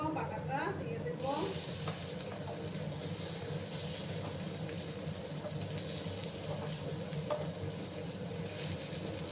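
A ground green bean paste fries in a pan with a black cumin tempering, producing a continuous close sizzle and bubbling, with a voice talking briefly at the start.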